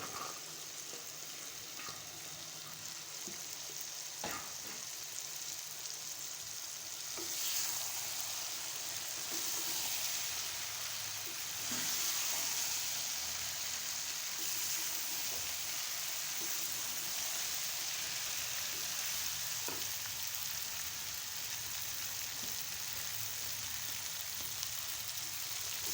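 Okra (bhindi) frying with masala in a pan makes a faint, steady rain-like sizzle throughout, with occasional soft stirring knocks and a slight swell in intensity midway.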